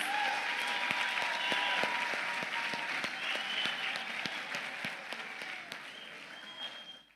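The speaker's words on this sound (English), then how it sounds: "Let's give them one more round of applause." A crowd applauds the 23 Alpha graduates at their ceremony, with a full, even wash of clapping and a few sharper individual claps standing out. It fades slightly before stopping.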